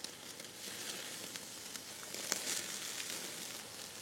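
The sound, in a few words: dry-aged steaks searing over grill coals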